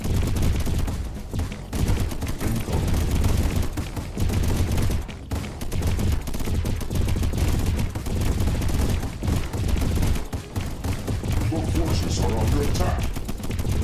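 Rocket turrets in the game Deep Among the Swarm fire nonstop, a loud, dense clatter of rapid launches and impacts that keeps up steadily and close at hand, with no pauses.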